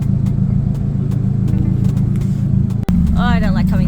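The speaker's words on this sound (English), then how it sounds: "Now it's idling perfectly." A Nissan 180SX sits idling with a steady, even low engine hum, close and loud, and a voice starts talking over it near the end.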